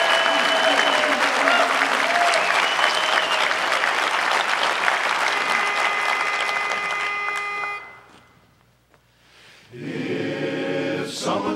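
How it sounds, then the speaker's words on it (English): A large audience applauds a barbershop chorus from Sioux City, Iowa, in a long, steady roar of clapping that fades to near silence around eight seconds, before voices and a brief musical swell pick up. "put your hands together for Sioux City, Iowa, under the direction of Lynn Trapp, the Siouxland Barbershop Chorus"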